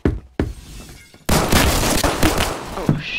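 Pistol shots in the Roblox game Phantom Forces, two sharp cracks followed by a dense burst of rapid firing and impacts, loud and close.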